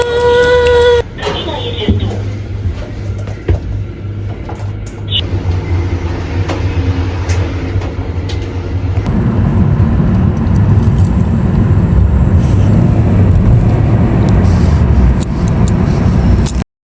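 Bus ride in Poland: a steady low engine rumble and road noise fill the cabin, growing louder and rougher partway through, with faint rattles and brief tones early on.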